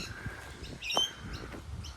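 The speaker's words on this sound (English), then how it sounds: "That's a rainbow lorikeet." Rainbow lorikeets by a lake give a few shrill, screechy chirps, with one sharper call standing out mid-way against a quiet outdoor background.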